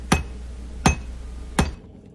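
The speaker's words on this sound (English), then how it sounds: "At first I'm just hammering it out, kind of drawing that metal out a little bit longer." Hot metal is hammered on an anvil to draw it out, giving three loud, sharp ringing strikes spaced evenly about three-quarters of a second apart, close up and alone.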